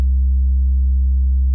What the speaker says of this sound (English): this is just a sine wave